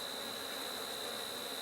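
Honeybees buzzing during a hive inspection a few days after requeening, a faint, even, continuous hum with a thin high whine, steady throughout and free of speech.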